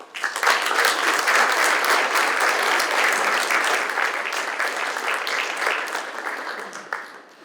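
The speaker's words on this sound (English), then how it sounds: "Let's give Rick Flynn with Rick Flynn and Associates a round of applause." Sustained applause from a conference audience after a speaker finishes, dense steady clapping at close range that holds for several seconds before tapering off near the end.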